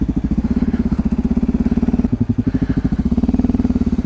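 A KTM 950 Supermoto's V-twin engine runs at a steady, lumpy idle close by, its low rhythmic thumping loud and even throughout with no voices over it.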